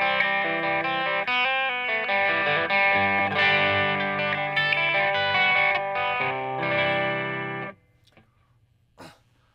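An electric guitar plays through an Alairex HALO overdrive pedal at a low gain setting, ringing chords and notes with mild distortion for about eight seconds before cutting off to near silence and a faint pluck.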